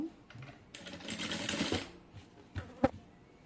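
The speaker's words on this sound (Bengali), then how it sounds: "এখানে আমি সেলাইটা করব" A sewing machine runs in a burst of about a second, stitching the joint of a Moushumi-style sleeve, followed by a few short clicks and a sharp knock near the end.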